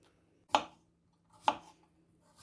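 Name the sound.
chopping salad: onion, cucumber, tomato, green chillies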